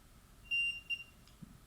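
Two short, high electronic beeps sound in quick succession, faint against a quiet room in an old hospital.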